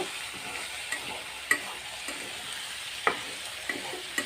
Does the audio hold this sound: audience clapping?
no